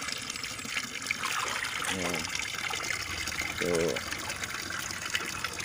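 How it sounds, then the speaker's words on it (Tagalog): Molasses and water being mixed and poured, a steady liquid splashing and gushing heard up close, with someone talking over it. "yan ang pag-mix ng ano, molasses at tubig"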